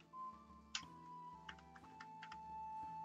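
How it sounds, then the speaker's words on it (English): Typing on a computer keyboard while entering code for a 2D game in Unity, a few faint scattered key clicks over a quiet steady hum. "we're gonna type in player 2 scored"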